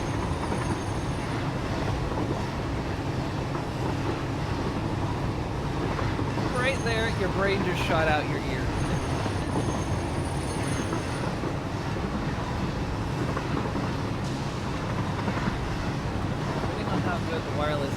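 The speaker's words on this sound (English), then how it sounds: "No way a train would be able to take this turn." A train runs on rails in the video game Satisfactory, a continuous low rumbling roll with a brief metallic squeal partway through, while a person talks over it.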